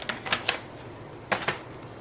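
Paper trimmer blade slicing through cardstock for a vertical standing fun fold card, a few short crisp strokes in two quick bursts, close and fairly quiet with no talk.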